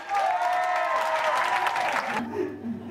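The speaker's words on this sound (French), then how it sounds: "Faites du bruit, applaudissez-vous." A comedy-show audience claps loudly and steadily, a dense crowd sound that breaks off abruptly after about two seconds, leaving quieter room noise and a voice.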